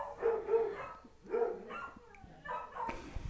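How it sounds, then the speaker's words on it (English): Two dogs bark in short bursts while playing together, the yaps and barks coming in uneven clusters, fairly close and of moderate loudness, with a brief sharp noise near the end. "Bark, bark, bark."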